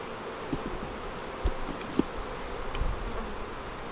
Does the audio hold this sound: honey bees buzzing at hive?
yes